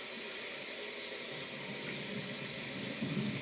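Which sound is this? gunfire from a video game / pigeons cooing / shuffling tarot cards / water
water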